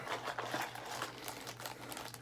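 Plastic packaging around an AR-15 part crinkles steadily and close up, a dense, continuous rustling with no pauses.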